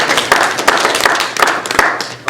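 Applause at a borough council meeting for two local students, a dense, loud, close burst of clapping from the room that holds steady throughout.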